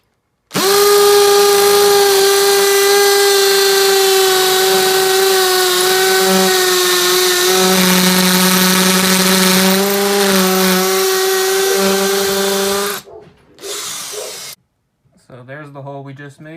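A power drill fitted with a depth gauge bores a hole in a steady, close, loud motor whine lasting about twelve seconds, then cuts off, followed by a few short, quieter sounds.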